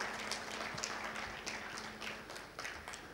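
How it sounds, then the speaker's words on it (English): Scattered applause at a road-safety transport technology event honoring S.H. Acharya: sparse, fairly quiet claps with distinct individual hand smacks standing out in an irregular rhythm. "Big round of applause for Mr."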